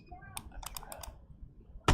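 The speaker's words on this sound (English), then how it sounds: "I'm going to hit D on my keyboard" Several quick taps on a computer keyboard, pressing the D key, a cluster of crisp clicks up close followed by a louder thump at the end, with a little talk in the background.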